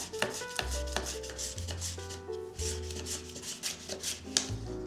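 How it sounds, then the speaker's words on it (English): Potato being finely chopped in a manual chopping apparatus, a steady run of repeated rubbing, scraping strikes with a few sharper knocks, close and moderately loud, with no talking. "Finely chop the potato."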